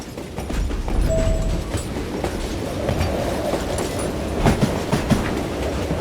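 Train rolling along rails in the video game Call of Juarez: Gunslinger, a continuous loud rumble with rhythmic clickety-clack of the wheels and brief metallic squeals, with no talking.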